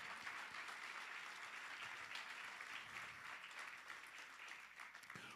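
A church congregation at a Sunday service gives sustained applause, a faint, distant, continuous rush of many hands clapping that stays level throughout with a few slightly sharper claps toward the end.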